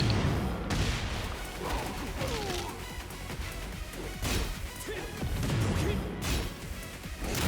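Explosive hit effect in the fighting game Tekken 8 during a tournament match, a loud crashing impact amid a dense barrage of thwacks, whooshes and crowd-like game noise with sharp bursts recurring throughout.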